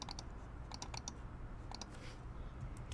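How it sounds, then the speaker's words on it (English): Keys on a computer keyboard click in quick short pairs and small clusters, close and soft, with pauses between the bursts and no talking. "I'm just going to Command-C and Command-V because that will be faster."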